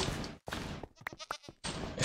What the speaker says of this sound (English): I swear this goat's gonna hit me or something.